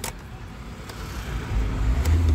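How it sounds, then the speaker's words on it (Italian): A Kia Ceed's engine starts up after a brief click, its low rumble building and settling into a steady idle nearby. "Accendiamo il motore."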